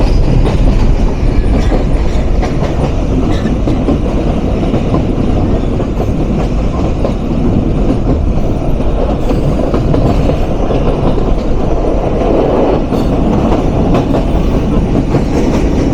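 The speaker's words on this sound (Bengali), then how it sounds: "সেই সাথে আন্তনগর চিত্রা এক্সপ্রেস থ্রু পাস করে যাচ্ছে পাকশি রেলওয়ে স্টেশন।" The Chitra Express intercity train rolls through Paksey railway station as a loud, continuous rumble with steady clickety-clack of wheels on rails, heard up close without a break.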